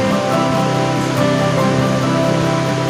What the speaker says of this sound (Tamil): தண்ணி கொஞ்சமாக ஊற்றிக்கலாம்.